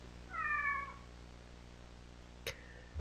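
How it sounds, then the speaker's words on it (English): A cat in the video game Kentucky Route Zero gives a single short, clear meow. Quiet ambience follows, with a small click shortly after. "A cat."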